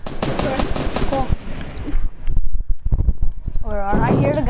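Rapid bursts of gunfire rattle loudly close by in a video game of hide and seek, mixed with shouting voices and other game noise.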